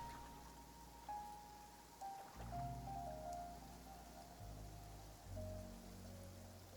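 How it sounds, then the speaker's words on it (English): Steady rain hissing and pattering in the video game Genshin Impact, with low droning tones and faint melodic notes playing throughout. "Okay, it is raining,"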